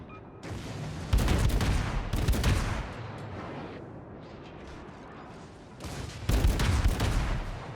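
Naval guns on the light cruiser Atlanta fire in World of Warships, with loud booming salvos in two bursts and the rumble of battle between them.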